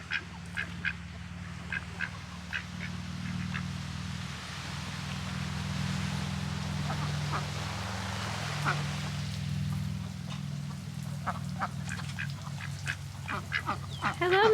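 Small ducks quack in a backyard setting, with repeated short quacks in loose bursts at moderate distance over a low steady background hum, growing busier toward the end.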